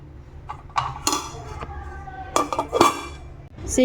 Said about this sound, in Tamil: ஸோ இப்போ நான் லிட்டு க்ளோஸ் பண்ணிடுறேன்